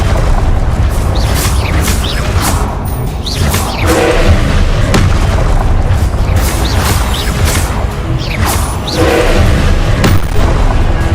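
Confringo blast spells going off in the Hogwarts Legacy video game: loud, repeated booming explosions and heavy thuds in quick succession, layered over constant rumbling combat noise.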